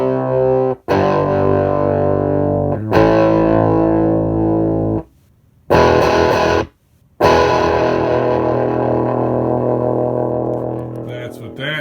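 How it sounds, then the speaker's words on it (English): Electric guitar with a heavily distorted tone aimed at a budget sound through a single speaker, loud sustained chords ringing in bursts, with two short silent breaks between phrases. "If I switch to a distorted sound"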